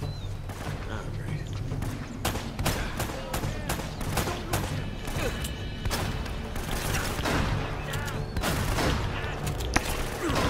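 Shotgun fire in the video game Uncharted: Drake's Fortune, a long run of sharp, irregular loud blasts and crackling impacts with someone talking over the shooting.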